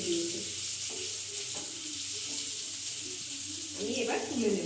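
Eggs, boiled and rubbed with salt and turmeric, sizzle in oil in a pan with a steady hiss and some clatter of utensils, and a brief louder burst near the end.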